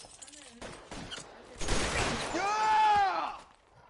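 Gunfire rattles in bursts during a shootout in L.A. Noire, ending in a shattering crash and a tonal, ringing noise, with voices mixed in.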